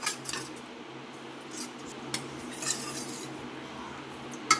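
A spoon stirring custard powder into milk, faint soft clinks and scrapes against the vessel scattered over a few seconds, with a sharper tap near the end and no talking.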